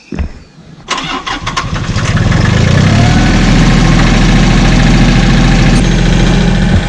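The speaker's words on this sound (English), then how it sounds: "So let me start the tractor up and show you how this thing works now" A Mahindra farm tractor's engine cranks briefly, then catches and settles into a loud, steady low rumbling idle close by.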